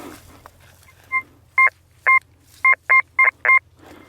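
A metal detector sweeping over junk in a field near an old house sounds a run of sharp, loud two-tone beeps, about seven in quick uneven succession, over faint background hum and a brief voice.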